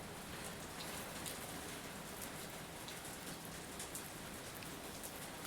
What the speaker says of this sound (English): It's raining where I'm at.